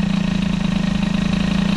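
A 103 moped engine fitted with an Airsal 65 kit and a Boissal-type carburetor idles at a standstill, a loud, steady, fast-pulsing putter that runs on evenly and alone.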